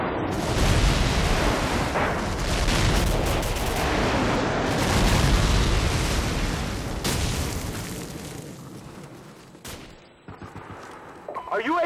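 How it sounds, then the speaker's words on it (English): Airstrike explosions in Call of Duty 4 team deathmatch boom and rumble loudly, layered with rapid gunfire bursts and heavy blasts, and game voices are heard over the chaos. "Friendly airstrike on the way."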